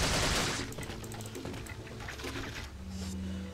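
Rapid gunfire from the player's weapon in Resident Evil 4, a quick burst of shots then scattered rattling reports under game effects, with a voice faintly present.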